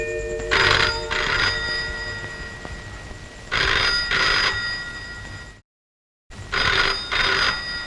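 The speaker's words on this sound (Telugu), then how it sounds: "ఫోన్ మోగుతుందిరా" A telephone rings loud and close in three repeated double bursts with short pauses between them, with no talking over the rings.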